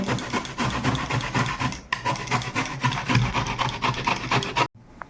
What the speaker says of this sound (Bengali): তো এখানে আমি কচুটা গ্রেট করে নিলাম, এইভাবে দেখুন।